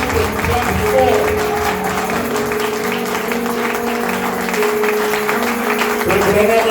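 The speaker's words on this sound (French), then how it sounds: "Acclamez fort pour votre bénédiction." A church congregation at Capstone Tabernacle in Gabon applauds loudly and steadily, a sustained wash of clapping with music and a voice running underneath.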